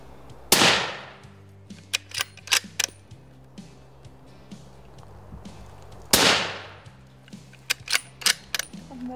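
Two sharp, loud gunshots several seconds apart, each followed by quick metallic clicks and clacks of a rifle action being worked, close by.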